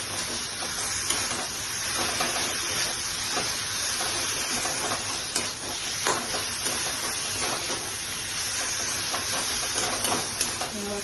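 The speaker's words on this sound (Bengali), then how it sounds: "এবার কষিয়ে" Rohu fish curry with capsicum sautés in a pan, making a continuous close hiss and sizzle that holds steady throughout with small crackles and no talk.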